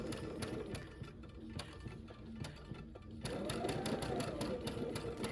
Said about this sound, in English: we're going to sew right on top of that purple line